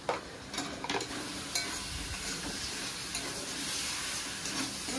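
Spice paste of Kashmiri chilli powder, ginger-garlic paste and green chilli paste sizzles steadily in a pan, with a few clinks of a spoon against the metal early on, close and soft, with no talking.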